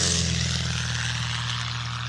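A light propeller airplane's engine idles steadily on the ground while taxiing after landing, a close, continuous low droning hum with even propeller harmonics and no talk.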